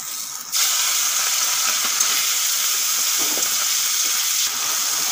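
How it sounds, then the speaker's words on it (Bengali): Turmeric-and-salt-coated prawns drop into hot oil with a sudden jump into a steady, loud sizzling hiss that holds evenly, with no talking. "এখন দিয়ে দেব লবণ হলুদ মাখা চিংড়ি মাছ"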